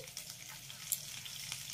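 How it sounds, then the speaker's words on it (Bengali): Whole spices and five or six cloves of chopped garlic fry in oil as a tempering, making a faint, steady, soft sizzle with light crackles and no voices. "রসুনটাকেও আমি এই ফোড়নের সঙ্গে হালকা করে একটু কষিয়ে নেব।"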